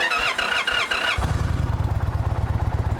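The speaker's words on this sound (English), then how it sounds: "Now this is the stock exhaust on this bike." A 2023 Indian Challenger motorcycle with stock exhaust cranks briefly, then fires up and settles into a steady, throbbing idle with a deep, even exhaust rumble, close by.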